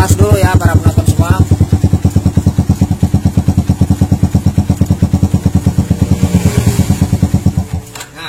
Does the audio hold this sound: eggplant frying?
no